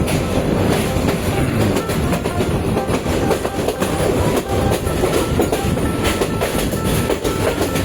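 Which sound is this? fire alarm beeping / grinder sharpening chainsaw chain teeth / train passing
train passing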